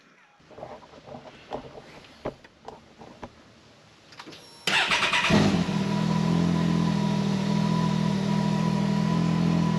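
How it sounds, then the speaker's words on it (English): A 2018–23 Can-Am X3 side-by-side engine starts and idles steadily while warming its coolant, a loud, constant near drone with a low hum that holds after quieter handling noises and brief talk at the start. "I ran the motor for a bit to get the thermostat to pop open and the fan to turn on"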